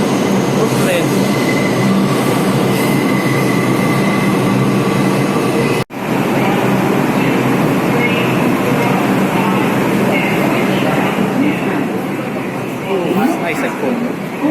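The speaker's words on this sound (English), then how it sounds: "The subways here are too loud." A loud New York subway train in Brooklyn roars along the tracks with constant rumbling and high squealing wheels, a brief drop midway, then continues rattling.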